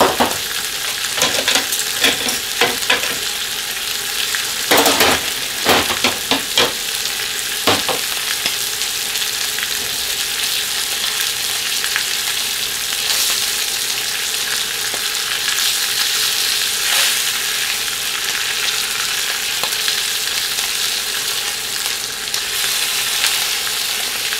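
Food fries in a cast iron skillet with a loud, close, steady sizzle, broken near the start by several sharp clatters and scrapes, then settling into an even crackling hiss.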